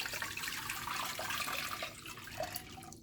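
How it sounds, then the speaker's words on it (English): A liter of water pours into a cooking pot for callaloo and saltfish, a steady broadband splashing rush lasting about three seconds at close range, easing slightly toward the end. "so I'll just put a liter of water"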